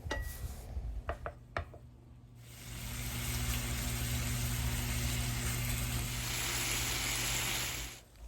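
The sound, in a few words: shrimp frying in a pan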